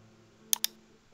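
The Enter key on a computer keyboard is pressed, making a quick close double click, press and release, over a faint low background hum.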